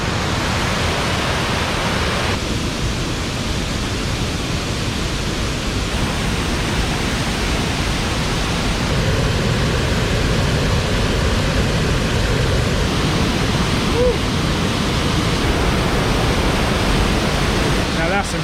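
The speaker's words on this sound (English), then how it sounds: "It's like a sideways waterfall, and it must be really big up there," A large waterfall pouring sideways off a rocky face, a loud, dense, unbroken roar of falling water that stays near and constant throughout, with no pauses and no other sounds standing out above it.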